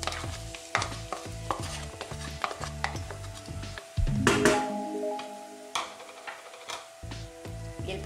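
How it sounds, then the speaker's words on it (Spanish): Garlic and chopped onion frying in olive oil in a pan, a steady sizzle broken by regular clattering stirs and scrapes of a utensil, close and fairly loud. "Cuando el ajo ya va cogiendo un color dorado, vamos a añadir la cebolla picada."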